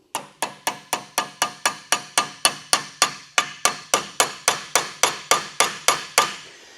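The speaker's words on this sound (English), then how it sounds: "what I'm going to do is just tap this in" A hammer taps a hinge pin into a 2nd-gen Camaro door hinge, making about twenty sharp, evenly spaced metallic strikes in a steady rhythm, close and loud.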